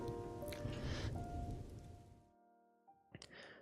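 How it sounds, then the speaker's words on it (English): Drizzling rain in the video game Hundred Line: Last Defense Academy, a soft steady patter that fades out midway, followed by a few brief faint sounds. "The rain was still drizzling as we made our way back toward Last Defense Academy."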